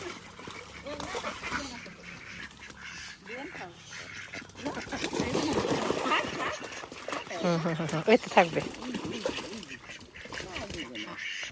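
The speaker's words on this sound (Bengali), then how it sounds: "হাঁসগুলারে নামাই দাও আরেকটা হাঁস বাহিরে আছে না দাও নামাই দাও" Ducks quack and honk around a water-filled bathtub made for them, in scattered bursts that grow busier midway. People talk over and between the calls.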